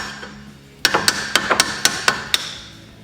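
A hammer strikes a 1993 Nissan NX2000's suspension to loosen a stuck outer tie rod, delivering about eight loud, sharp metallic blows in an uneven, fairly quick rhythm close by.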